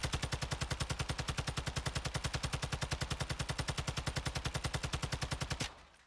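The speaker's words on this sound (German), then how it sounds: "wenn ich jetzt hiermit schieße, ich versuche jetzt auch die Waffe zu kontrollieren" Rapid automatic gunfire from a weapon on a shooting range in Warzone 2 / Modern Warfare 2, a loud, steady stream of close shots for about five and a half seconds before stopping abruptly.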